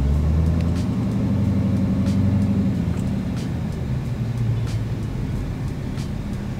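A car fitted with a swapped-in Duramax diesel engine idles and pulls off with a deep, steady low-frequency drone that rises slightly in pitch as it moves, loud and close, with no talking.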